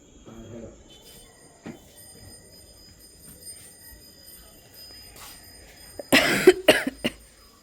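A cluster of harsh, close coughs bursts out near the end after several seconds of quiet room tone with a faint earlier thump.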